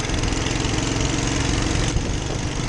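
A rebuilt 1947 Whizzer motorbike engine idles up close with a steady, fast, rattling putter that stays loud and even throughout, with no talking.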